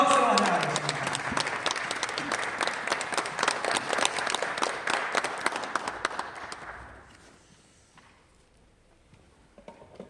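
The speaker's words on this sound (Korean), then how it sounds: "뜨거운 박수로 환영하겠습니다" Warm audience applause at a Christian gathering welcomes a retired army general to the lecture podium: dense, steady clapping fills the room for about seven seconds, then thins out and fades to quiet room tone.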